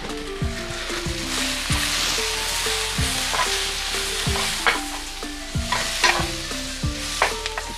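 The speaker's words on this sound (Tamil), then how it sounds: "இப்போ இந்த பருவத்தில் போட்டு நீங்கள் வதக்கிக்குள்ள" Spices and chicken stirred and sautéed in a pan for chicken kaattu roti: a steady sizzle with repeated scraping strokes of a spoon against the pan, close and continuous, no talking.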